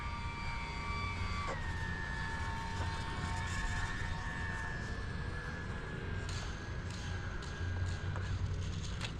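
UMX Pitts radio-controlled model airplane in flight after a rebuild, its small electric motor giving a steady high whine that shifts pitch as it passes, fairly distant and alone without talk.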